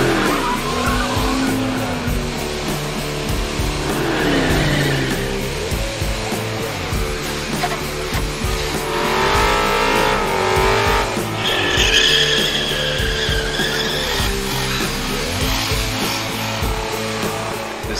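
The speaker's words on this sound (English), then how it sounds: "Commodores engulfed the place and themselves in freshly churned out tyre smoke" Holden Commodores at the South Coast Nationals car show skid and do smoky burnouts, producing loud continuous engine roar with squealing tyres that rise and fall, close and sustained throughout.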